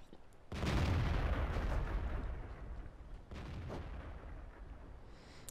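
Artillery fire in the World of Tanks video game: two heavy booming shots, each with a long rumbling tail. The first is loud and near, the second somewhat weaker, with no clear talk over them.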